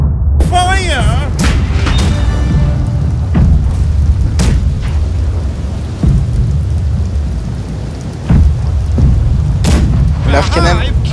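Ship cannons fire in the naval battle game Blackwake, several heavy booms spread across the scene amid rain and storm ambience, with voices talking over the action.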